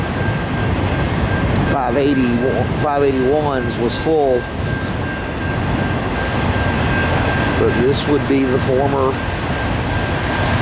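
A long southbound CSX manifest freight train of empty rack cars, led by ES44AC locomotives, rolls past near Dalton as a steady, loud, broadband rumble under a voice talking, with a high whine running throughout.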